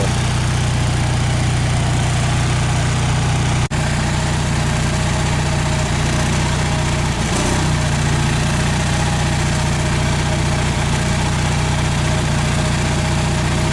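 A small generator engine running on HHO gas idles steadily, a constant close mechanical hum and vibration with no talk.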